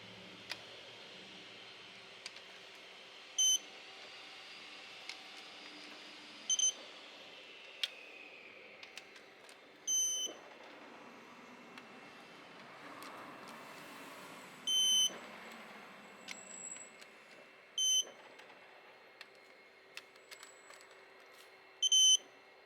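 Short electronic beeps sound at irregular intervals, several of them fairly loud, over a quiet background with a faint steady tone.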